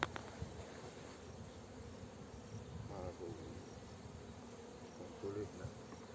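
Honey bees hum in a steady, low drone inside an open hive during colony splitting, a soft continuous buzz with a few faint handling noises.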